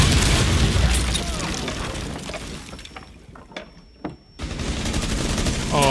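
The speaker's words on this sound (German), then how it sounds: "Achtung, Explosion." Explosions and bursts of gunfire in the video game Tom Clancy's Rainbow Six Siege during a breach, loud dense shooting that drops into quieter moments with isolated sharp shots and then returns to heavy fire.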